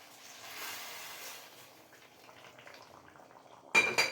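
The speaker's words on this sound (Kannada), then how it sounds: "ಬಾಣಲೆಗೆ ತರಕಾರಿನೂ ಹೋಯ್ತು." Cooked vegetables go into a hot frying pan of tempering for bisi bele bath, giving a sudden loud sizzling clatter near the end after a quiet stretch of faint kitchen clinks.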